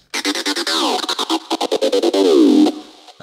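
A hard trance synth line in FL Studio is chopped by a Gross Beat glitch effect into rapid stuttering gated bursts, ending in a downward pitch sweep, loud and close with no voices.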